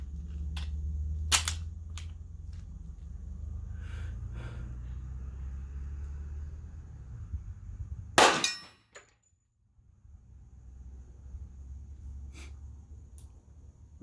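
One sharp, loud report from a Kimber CDP II .45 caliber pistol with a 4-inch barrel breaks a steady low outdoor rumble, followed by a brief near-silence, with a few fainter clicks and clanks around it.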